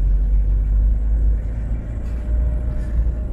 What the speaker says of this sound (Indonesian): Nah ini, oh ada truk.